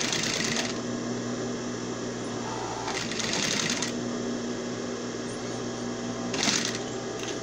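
An electric sewing machine stitching fabric for a remote control cover, running in a loud steady mechanical whir with rapid needle chatter, pausing briefly a few times between runs, with no talking.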